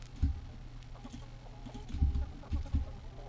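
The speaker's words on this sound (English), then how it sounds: "so many chickens already" Chickens in the Atlas video game clucking in short, irregular bursts, several soft low clucks scattered through a few seconds of game ambience with no talking.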